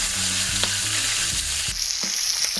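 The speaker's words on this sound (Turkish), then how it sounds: "Şimdi diğer tarafa kızartın." Fish fries in a pan of hot oil on a village kitchen stove, a steady close sizzle with soft stirring and scraping clicks and no talking.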